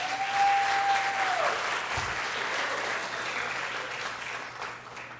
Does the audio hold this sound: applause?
yes